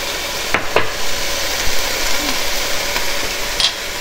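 Meat browns in a pan for a casserole, seasoned with chili powder and garlic powder, giving a loud, steady sizzle broken by a few faint stirring scrapes and no talking.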